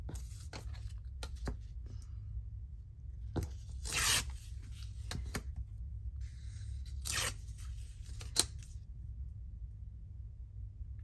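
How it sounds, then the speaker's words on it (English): Book paper torn against a metal tear ruler, giving two or three short ripping bursts with small crinkles and taps between them, close and quiet over a steady low hum. "Give that a tear with the tear ruler"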